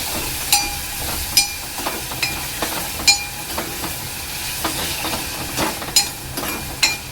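Salted tomato mixture sautéing in hot oil for a Marathi prawn and okra curry, a steady close sizzle and hiss with scattered sharp spits and pops throughout.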